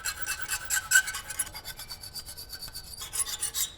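A metal file rasps over the rough edges of a cutlery spoon being made into a ring, a quick series of short, bright scraping strokes, close and fairly quiet, with no talk.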